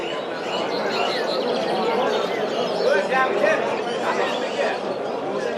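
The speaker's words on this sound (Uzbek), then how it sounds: "Ko'p chumchuqlar." Dense chirping from many caged sparrows fills a busy Tashkent bird market, a steady overlapping twitter close by, with people talking underneath.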